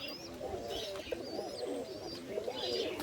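A pigeon coos close by in soft, rolling warbles that repeat several times over a low murmur, with a few faint chirps from other birds mixed in.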